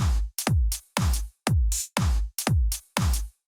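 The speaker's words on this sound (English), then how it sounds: "Fairly simple, a 4 on the floor beat that sounds like this." A steady four-on-the-floor dance beat built for a nightclub party groove, with a deep kick punching on every beat, brighter hits layered between, tight and evenly spaced, close and loud with no voices.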